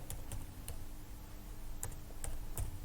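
Keys are typed on a computer keyboard into a Linux terminal, a handful of sparse, light clicks spread unevenly over a steady faint hiss, close by, with no voices.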